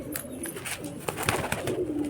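Pigeons at a bird show in a Bhopal market coo softly amid a few scattered chirps, with a low ambient hum of the surroundings beneath the calls.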